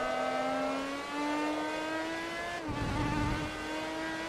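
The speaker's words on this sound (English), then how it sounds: "Oh, it's a beautiful engine noise." A race car engine in Forza Motorsport 3 drones with a steady, rising whine, then briefly cuts and roars back with a rougher growl, loud and close.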